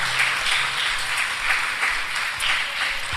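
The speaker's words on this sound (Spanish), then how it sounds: "Dele palmas al Rey de Reyes." Congregation applauding inside a church during an evangelical Sunday service, a steady dense wash of clapping that continues evenly throughout.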